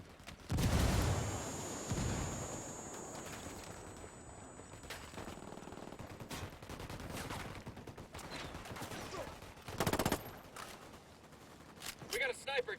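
Gunfire and a frag grenade in the video game Ghost Recon Wildlands: a sharp burst of shots and a blast early, scattered pops through the middle and another loud bang later, with a voice talking over it.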